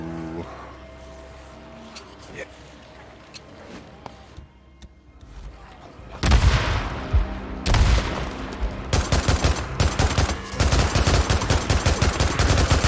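Grenade explosions and bursts of gunfire in the video game Days Gone, starting with quieter scattered shots, then loud booms and rapid, dense volleys of fire; a voice talks over the early part.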